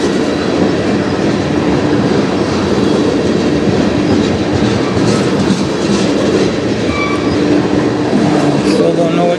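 CN freight train passing in Sarnia, Ontario, a loud steady rumble of rolling cars with continuous wheel clatter and occasional metallic squeal, close by throughout.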